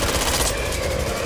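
Rapid bursts of video game gunfire in a frantic firefight, dense and continuous across the whole moment, loud and close with no talk over it.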